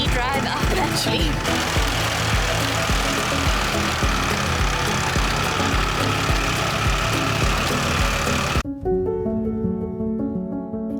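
A vehicle engine labours while climbing a steep road toward the Killing Caves near Battambang, Cambodia, with a loud, continuous rhythmic chugging and knocking that cuts off abruptly near the end, leaving a quieter tonal hum.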